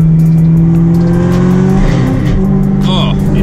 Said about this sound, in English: oh, it just like grinds like crazy.